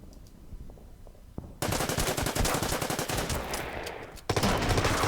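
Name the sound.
machine gun fire in Order of Battle Pacific video game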